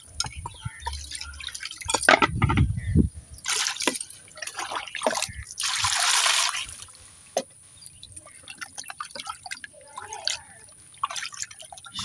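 Fresh fish pieces are washed in water by hand, with close dripping, splashing and trickling sounds that come in uneven bursts and short pauses. A voice speaks over parts of it.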